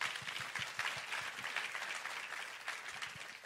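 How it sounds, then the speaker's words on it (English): Applause from the audience at the 5th Royalty Soapie Awards broadcast, a sustained crowd clapping with a few sharper individual claps standing out near the front. "I think that deserves a big warm round of applause"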